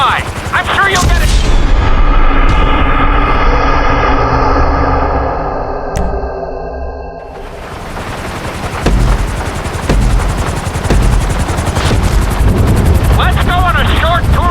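Helicopter in GTA 5 flight school: a steady, loud whining engine tone with layered pitch lines gives way to rougher broadband rotor noise and sharp game effects.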